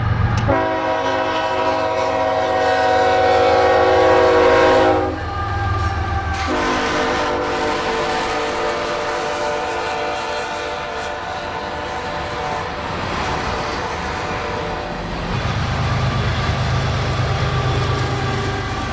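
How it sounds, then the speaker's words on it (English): Northbound freight manifest train passing through a town, its loud multi-tone horn blaring in long sustained blasts over the steady rumble of rolling cars, continuous and close throughout. "a northbound manifest made its way through town."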